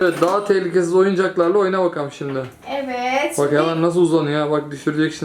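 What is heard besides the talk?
No everyday noises stand out.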